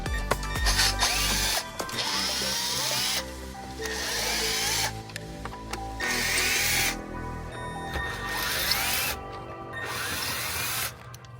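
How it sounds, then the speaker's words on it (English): Power tool whirring in bursts as six T15 Torx screws come out of a 2019–2023 Chevrolet Silverado/GMC Sierra dash panel, with ratcheting clicks and short pauses between each screw, close and fairly loud. "next step is gonna be to remove the T15 Torx"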